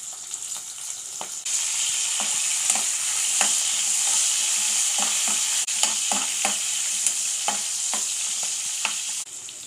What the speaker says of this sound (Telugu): ఇందులోకి ఒక రెండు లేక మూడు వెల్లుల్లి రెబ్బలు వేసుకుందాం అలాగే ఉల్లిపాయ ముక్కల్ని కూడా వేసుకుందామండి అలాగే కొద్దిగా మెంతి ఆకులను వేసుకుందాం